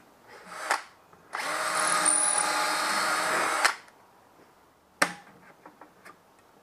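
A power drill on very low torque whirs steadily for a couple of seconds driving screws into a folding stool, bracketed by sharp clicks and taps, then a few more clicks in quiet.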